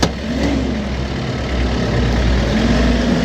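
Tractor with a shuttle transmission in neutral, its engine revved up loud and close, a rough steady roar that rises and wavers slightly in pitch across a few seconds.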